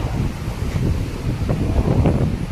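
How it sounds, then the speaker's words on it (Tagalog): Gusty wind outdoors under a tree buffets the microphone with low rumbling blasts, rising and falling in uneven pulses close by. "Sarap ng hangin"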